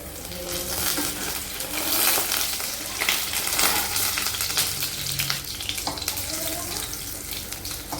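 Spinach fritters are lifted out of hot frying oil with a strainer, and the oil crackles loudly and continuously. Clinks of metal and wet, splashy movements sound throughout, along with faint background voices.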